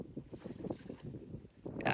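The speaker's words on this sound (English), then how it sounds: "the engines are on" Sailboat engines running at first light, a low rumbling drone mixed with wind buffeting and water noise, a rougher gust rising at the end.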